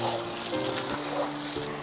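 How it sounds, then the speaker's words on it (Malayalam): Water at a rolling boil in a pot for chicken biryani, a steady close hiss and bubbling with a faint underlying hum, no pauses. "തിളച്ചുകൊണ്ടിരിക്കുന്ന വെള്ളം"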